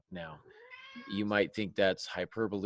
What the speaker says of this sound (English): You might think that's a cat in the background meowing.